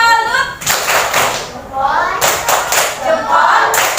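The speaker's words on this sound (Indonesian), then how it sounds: "kita berikan tepuk salut untuk kelompok 2." A classroom group performs a rhythmic 'tepuk salut' clap during a teacher-training session, with sharp bursts of clapping in a patterned beat while voices chant along loudly between the claps.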